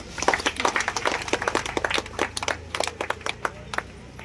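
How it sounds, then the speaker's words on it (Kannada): Audience clapping at a district panchayat felicitation ceremony held around Ramzan, a steady crowd applause of many sharp claps, moderately close, with a voice talking faintly underneath. "ಜೋರಾದ ಹಾಗೆ ಚಪ್ಪಾಳೆ ಬರಲಿ."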